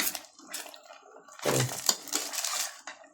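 Buttermilk poured into a pan of more kali during cooking, a brief wet splash and clatter around the middle among light clinks of metal utensils against the pan, no talking.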